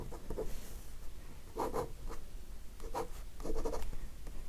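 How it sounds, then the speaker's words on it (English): Pen drawing on paper during fast urban sketching of a person's hand, faint close scratchy strokes in short separate bursts over quiet room noise. "I'm just drawing like a little square there, and for the fingers and the thumb."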